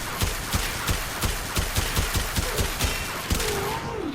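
Fulmin weapon firing in the shooter game Warframe: a steady run of about a dozen sharp, evenly spaced shots at a fast rhythm, fairly close and clear, with a wavering whine rising near the end and no talking.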